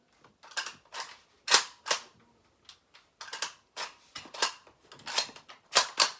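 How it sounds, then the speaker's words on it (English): Bolt of an S&T Type 97 Arisaka airsoft rifle with a stiff new spring being worked, giving a string of sharp, close mechanical clacks and snaps in uneven bursts with short pauses between them. "you gotta drop the rifle, and then you're able to pull the bolt back"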